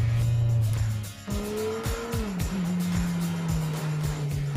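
A loud 2017 Kawasaki Z1000 SX motorcycle engine revs and climbs through repeated rising gear sweeps, roaring close by and accelerating hard.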